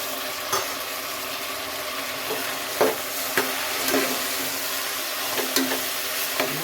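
Chopped tomatoes stir-fried in a pan for hotel-style bisi bele bath give a steady sizzle, with scraping stirs and a few sharper knocks of the spoon against the pan, close up and without talk.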